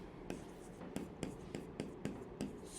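Chalk or marker writing on a board during a parabola and tangent math lecture, a run of short, regular scratching strokes at a steady pace, fairly faint, with no talking.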